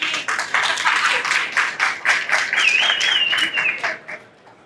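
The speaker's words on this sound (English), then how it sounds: "you're welcome to give her some applause" Audience applause at a conference on smart factories and Industry 4.0, a steady patter of many hands clapping across the room that thins out at the end, with a faint whistle-like tone partway through.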